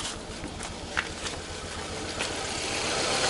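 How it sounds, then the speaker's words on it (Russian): A Nissan Sunny idles unevenly in a garage, misfiring on one cylinder because of an ignition coil fault. The low engine rumble is close and continuous, with faint clicks and a slight swell toward the end. "Автомобиль подтраивает."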